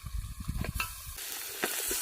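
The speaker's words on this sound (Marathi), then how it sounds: "तर हळद मीठ धना पावडर लावून घेतलेलं मटण आपल्याला पातेल्यामध्ये घालून घ्यायचं" Mutton marinated in turmeric, salt and coriander powder is added to a hot pot of oil and sautéed onion on a wood-fired stove. A few stirring knocks are followed by a loud, steady, close sizzle.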